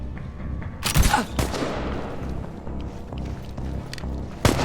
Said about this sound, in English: Shoot to kill!